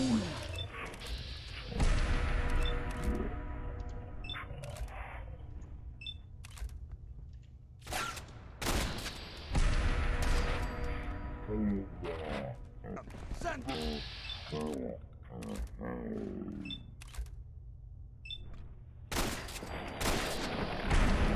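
Shotgun blasts in Fallout 4 boom out in several loud, separate bursts with mechanical reload clatter between them, over a steady background hum.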